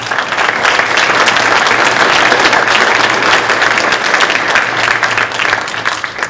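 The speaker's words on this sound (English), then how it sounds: "I want to give another round of applause." A hall audience at a presentation on a strategic plan to solve homelessness gives sustained, loud applause. Dense, steady clapping fills the whole stretch with no talk over it.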